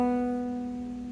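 An open second string plucked once on a banjo, tuned for a beginner's one-finger lesson on Boil Them Cabbage Down, ringing as a single clear tone that decays slowly, played alone with no talk.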